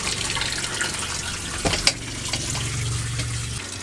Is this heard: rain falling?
no